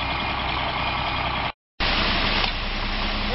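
A concrete truck idles nearby with a steady, gritty diesel rumble, cut by a short gap and then resuming, no talk heard.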